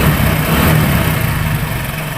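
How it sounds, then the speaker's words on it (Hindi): A Hero Passion Pro motorcycle engine runs at steady idle, a continuous low throbbing hum close by that keeps an even level for the whole stretch, with no voices. "अभी ये बाइक स्टार्ट है"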